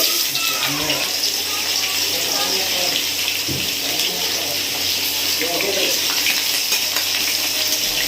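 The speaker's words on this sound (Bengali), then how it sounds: "এবার দিয়ে দেবো এর মধ্যে পেঁয়াজ কুচি" Chopped onion goes into a pan of hot oil with dried red chillies and fries with a loud, continuous, close sizzle that holds steady throughout.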